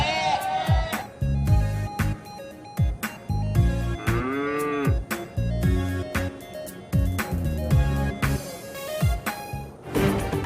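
Cattle lowing repeatedly at a crowded livestock market in the days before Eid, several moos rising over steady crowd noise and background music.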